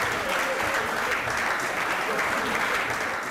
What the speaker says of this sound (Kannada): ನಿಮ್ಮೆಲ್ರ ಚಪ್ಪಾಳೆ ಆದ್ಮೇಲೆ ನಾನು ಹೇಳ್ತೀನಿ